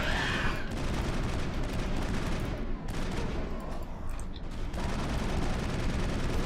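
Gunfire in the video game Mass Effect, a dense, continuous barrage of shots and impacts that stays loud throughout, with only brief dips between bursts.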